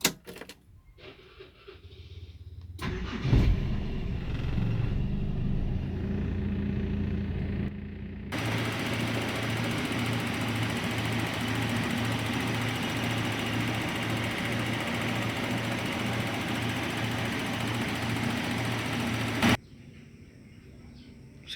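A car engine idles while warming up ahead of an oil change, a steady low rumble running through most of the stretch after a few knocks and shuffles at the start, then stopping near the end.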